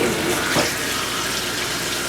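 Tap water runs in a steady, close, broadband rush for about two seconds, with a brief splashy surge near the start, in a home where a Shih Tzu puppy is being groomed.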